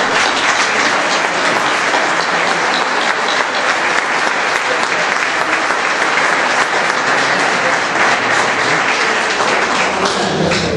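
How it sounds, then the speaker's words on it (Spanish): An audience at a Lignum Crucis gathering in Caspe, Spain, applauds to welcome don Jaime. The clapping is loud, dense and sustained, filling the whole stretch without a break. "Un aplauso a don Jaime"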